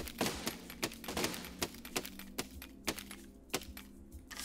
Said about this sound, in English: Oh, these cannons are only one shot.